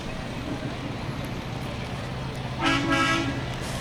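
Fire truck from the Eagle Lake Fire and Rescue taking part in a community parade, sounding one short, loud horn blast near the end over steady outdoor street noise and idling engines.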